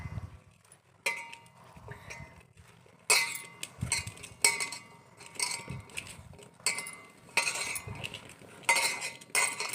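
A spoon stirs a cauliflower snack mixture in a bowl, giving repeated close scraping and clinking bursts in an irregular rhythm with short pauses between strokes, no talking.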